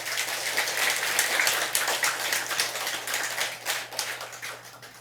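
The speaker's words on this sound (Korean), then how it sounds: "박수 쳐주세요." An audience at a Buddhist temple dharma service claps in a dense, even patter of many hands that holds steady for several seconds, with no voices over it.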